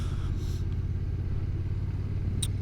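A Honda NT1100 motorcycle's engine rumbles steadily while riding, a low continuous drone close to the microphone, with faint wind and brief higher-pitched blips over it.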